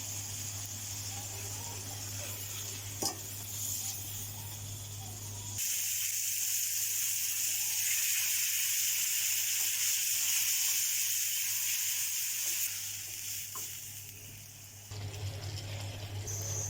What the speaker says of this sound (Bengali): জিরার গুঁড়া দিয়ে দিচ্ছি, কেটে রাখা বেগুনগুলো দিয়ে দেবো